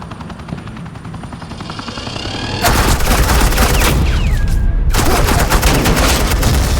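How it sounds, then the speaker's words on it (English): Suppressing gunfire in a Batman video game, with a dense, loud burst of rapid shots that starts suddenly, cuts out briefly, then resumes, over a whirring rotor-like background. "This is Agent Quinn, suppressing fire."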